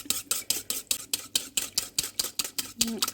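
A whisk beats melted tallow and lye for gray soap in quick, even strokes, about four per second, each a sharp wet swish against the container, close up and with no voices.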